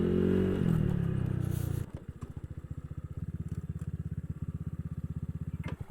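A Honda Click scooter on a long ride roars loudly at first, then drops to a steady, rhythmic low engine putter that pulses evenly to the end, with no voices.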